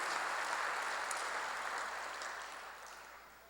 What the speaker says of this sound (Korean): 박수로 나가세요.